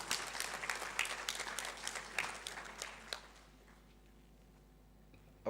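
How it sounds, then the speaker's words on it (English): Applause from an audience at a launch event for a chief guest, a moderate burst of many hands clapping that fades out after about three seconds, leaving quiet room tone. "Another round of applause."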